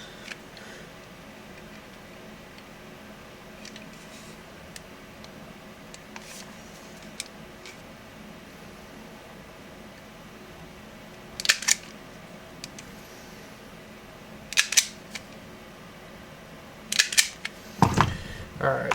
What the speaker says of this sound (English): grab one black and one red 24 gauge wire, and then go ahead and strip the ends